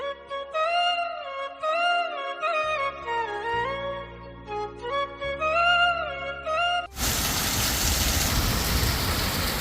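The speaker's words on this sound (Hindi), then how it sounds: "इतनी भयंकर बारिश हो रही है ना" A short electronic melody plays, then cuts abruptly to loud, heavy rain pouring down steadily in the mountains.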